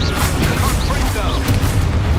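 A Confringo spell explodes in the video game Hogwarts Legacy, deep booming blasts and crashing impacts rumbling loudly beneath busy in-game sound and voices.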